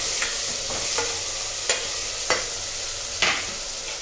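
Brinjal, tomato, fenugreek greens, potato and val beans are stirred in a sizzling pan, a steady fry hiss broken by several sharp scrapes of the spoon at irregular intervals.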